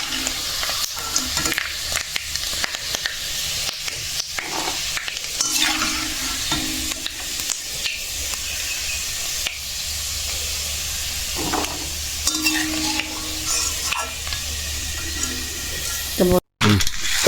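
Coconut, peanuts and curry leaves fry in oil in a pan for a dal chanachur snack, with a steady loud sizzle and hiss and repeated scraping stirs; a faint voice sits underneath, and there is a brief dropout near the end.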